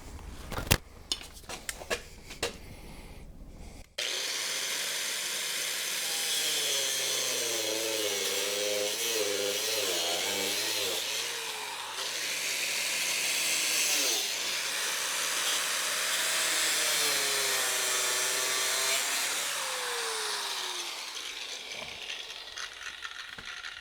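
A power cutting tool grinds away the washer and hinge pin on a Chevy Silverado door, a loud continuous whine that rises and falls in pitch under load, preceded by a few brief clanks and taps.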